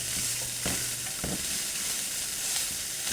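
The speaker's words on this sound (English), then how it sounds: "your ground beef and onions are pretty much done" Ground beef and onions frying in a pan give a loud, constant close-up sizzle, with a couple of brief stirring scrapes underneath and no talking.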